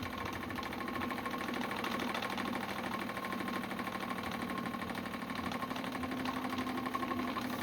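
A steam engine running steadily, a faint, even mechanical chugging and rattling with a constant rhythm and no voices.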